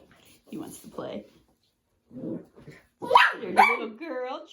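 Nine-week-old puppies bark and yip while playing on a rural property, with short high-pitched yips bursting out near the end between quieter scuffling; a person talks over parts of it.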